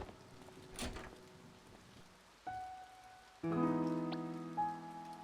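Soft rain patters steadily in the video game To The Moon while several electronic tones and chimes come in over it.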